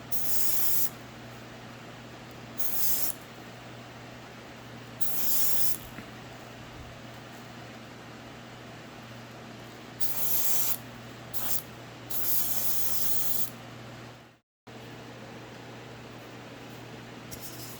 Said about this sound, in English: I always take my airbrush apart and clean it after using this primer, this MIG One Shot.